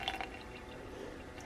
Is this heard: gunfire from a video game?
no